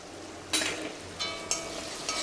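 Ginger-garlic paste frying in a pan, stirred a few times with a utensil, giving soft scraping sweeps over a steady low sizzle, close and fairly quiet with no voices.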